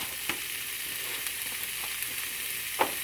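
A chunk of Spam fries in a pan, a steady close hiss of sizzling fat with a few small pops and crackles scattered through, and no voices.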